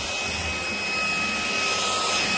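A small Hompany vacuum cleaner runs steadily on its high setting with a loud, constant whine and rushing hiss, close up and uninterrupted.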